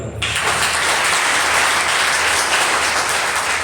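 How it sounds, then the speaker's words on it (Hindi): A seminar audience in Ambala applauds on request, a thick, even wash of many hands clapping that starts abruptly and holds steady at full strength for over three seconds. "ताली बजाओ"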